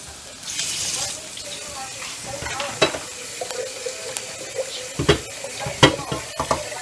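Water goes into a hot frying pan with a brief rush and hiss, then sizzling continues with scattered sharp clinks and knocks of cookware.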